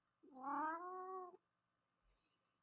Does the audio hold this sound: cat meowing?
yes